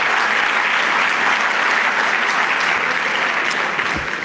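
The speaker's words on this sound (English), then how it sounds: "A round of applause for those celebrations, please" Conference audience at the Pula Investment Conference in Botswana gives a sustained round of applause, a thick, even wash of many hands clapping that fills the hall and tapers slightly at the end.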